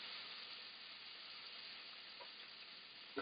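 Bacon crisping in a pan, a steady close broadband sizzle and hiss running throughout, with a couple of brief clinks near the end.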